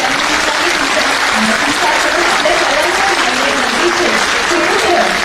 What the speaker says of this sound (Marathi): टाळ्यांचा ओघ असा सुरू राहू देऊया